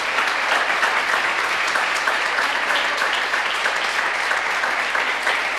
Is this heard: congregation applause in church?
yes